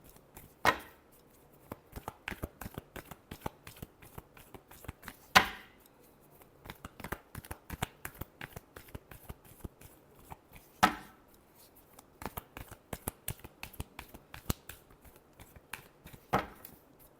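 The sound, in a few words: tarot cards being shuffled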